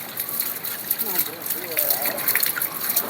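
Water runs and splashes steadily during outdoor washing, a continuous gushing hiss close by with faint voices underneath.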